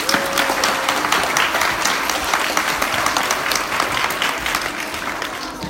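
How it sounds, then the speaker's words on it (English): An audience at a Diwali celebration applauds the Western Heights Indian dancers, a dense, steady wash of clapping from many hands sustained evenly throughout with no voices rising above it. "Let's give the Western Heights Indian dancers another round of applause."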